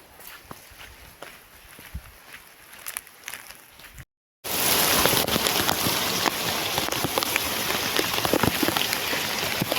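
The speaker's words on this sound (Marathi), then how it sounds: "पाऊस बघा किती जोरात आला आहे तो" Heavy monsoon rain pours down in a village, a steady loud hiss of drops on surfaces that grows much stronger after a brief gap, with a few footstep-like impacts mixed in.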